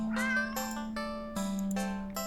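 A cat in a video game meows in a run of drawn-out, tonal cries, several in a row, close and clear over a steady low background hum.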